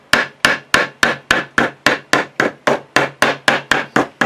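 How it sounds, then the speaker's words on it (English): A rubber hammer taps a guitar fret into its slot on the fingerboard, striking about thirteen times in a steady, even rhythm of close, crisp, moderately loud knocks with no talking. "And we take our last fret and line it up, and again with our rubber hammer we're just going in"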